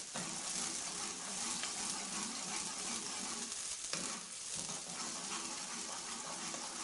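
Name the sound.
onions frying and being browned in a pan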